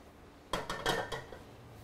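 Oil swirled around a hot non-stick wok over medium heat, giving a few quick clinking metallic knocks and scrapes in a short cluster, then quiet.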